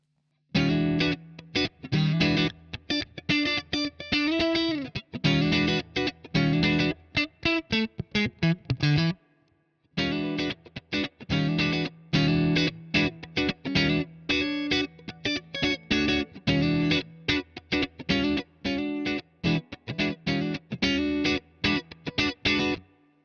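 An electric guitar through compressor and overdrive pedals plays choppy, rhythmic chords with a gritty overdriven tone, briefly pausing midway before continuing, no voices present.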